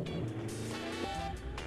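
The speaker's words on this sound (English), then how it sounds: "There's even real car sounds." Elmo's radio control roadway toy from Sesame Street plays its built-in car sound effects: a short revving engine tone that climbs and shifts in pitch, fairly close and with no talking.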